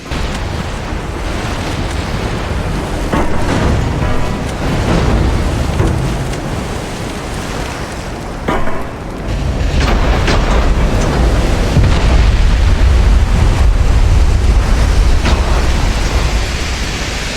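In Ultimate Admiral Dreadnoughts, a Japanese battleship's forward magazines explode amid deck fires: a loud, sustained rumbling roar with a brief dip midway, then a deeper, heavier surge that continues to the end.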